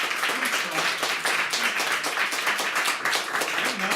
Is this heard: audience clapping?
yes